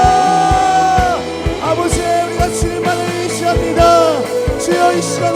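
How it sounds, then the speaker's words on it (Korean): A church congregation at a Sunday worship service loudly shouts "Lord" together in prayer. The many voices blend into a sustained, dense roar over steady, loud musical accompaniment. "우리 예배를 위해 주여 크게 한번 외치고 기도합시다."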